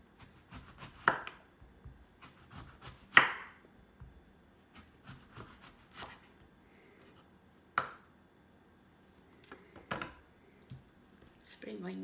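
A knife slices a lemon on a cutting board in a home kitchen, with several sharp isolated cuts and taps spaced irregularly against a quiet background, a voice talking faintly between them.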